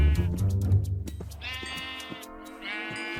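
Repeated sheep bleats from the video game Minecraft, two clear drawn-out calls over a busy game soundtrack and low rumbling background.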